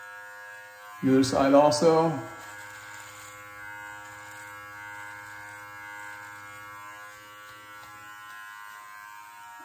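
An electric beard trimmer buzzes briefly as it cuts through a beard, a short burst of about a second, followed by a quiet low hum and someone speaking.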